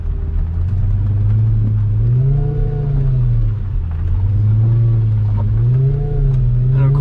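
A Lamborghini engine rumbles loud and close while creeping along slowly, its revs rising and falling in repeated gentle swells with a steady low drone throughout.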